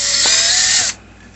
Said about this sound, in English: That's one thing I do like about the step drills.